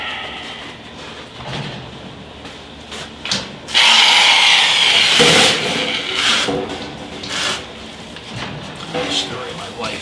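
A power metal shear cuts through the sheet-metal quarter panel of a Dodge Dakota during a patch repair, a loud harsh buzzing grind starting a few seconds in and continuing in bursts close by.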